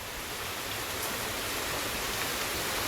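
Heavy rain pours steadily outdoors during the monsoon, a dense, even roar of water close by with no break and no voices over it.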